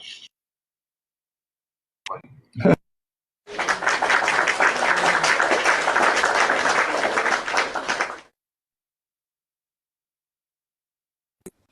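A burst of audience clapping rises suddenly and runs steadily for about four seconds before stopping abruptly, framed by near silence and a couple of brief knocks.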